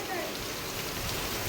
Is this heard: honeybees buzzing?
no